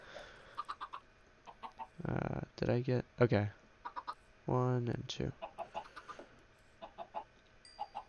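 Minecraft chickens clucking in several short, close bursts that mix with someone talking casually over them.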